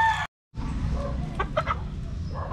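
A young Albany Sweater gamefowl pullet gives a few soft, close clucks while being bathed, after a short silent gap.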